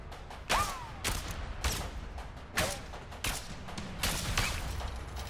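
Repeated bursts of gunfire in the video game A Way Out crack out in rapid volleys, sharp and loud, with short pauses between each flurry of shots.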